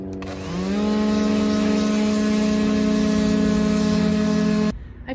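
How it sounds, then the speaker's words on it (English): A loud, steady motorized hum of a power sander on wood runs for a few seconds at close range, revving up at the start and cutting off sharply. "After you get it cut out, then you just start sanding."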